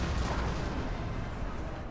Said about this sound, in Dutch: Artillerie eroverheen.